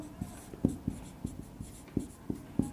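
Pen writing on paper close up, a steady series of soft scratchy strokes and taps in an irregular rhythm, quiet and alone with no talking.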